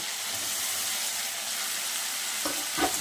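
Small mourala fish tipped into frying spice paste in a pan, an even close sizzle that swells with a couple of splashy bursts near the end.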